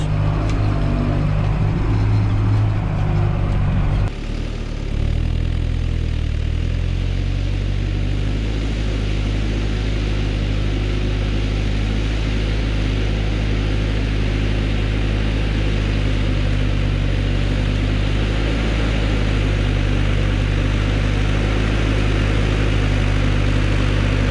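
A Valtra A85 tractor engine drones steadily and loudly at close range with a deep low rumble during deep ploughing of fallow land, shifting slightly in pitch early on, then holding an even idle.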